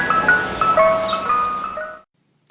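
An ice cream truck plays a jingle, a bright tinkling melody that runs for about two seconds before stopping abruptly, followed by a brief faint noise.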